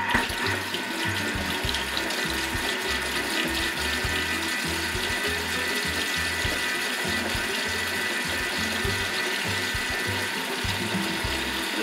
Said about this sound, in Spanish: Ahora lo mezclamos 10 segundos, velocidad 4